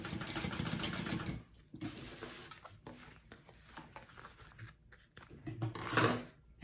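A sewing machine basting along the top edge of a fabric sling backpack, running in bursts of rapid whirring stitching separated by brief pauses and softer handling noises.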